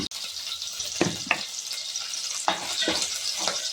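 Slit, salted green chillies frying in very hot oil, a steady close sizzle punctuated by a few sharper spatters and stirring scrapes, with no speech.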